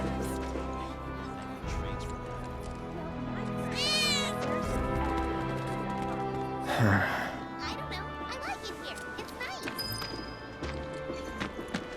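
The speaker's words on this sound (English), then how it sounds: "Oh, that was definitely a cat." A cat meows once in the Final Fantasy VII Remake Intergrade video game, a short rising cry over a layered game soundscape of music, hoof-like clopping and a sudden crash, with voices talking.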